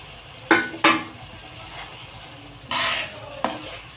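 A utensil scrapes and knocks against a pan a few times while stirring mustard and spinach greens, with a soft sizzle underneath.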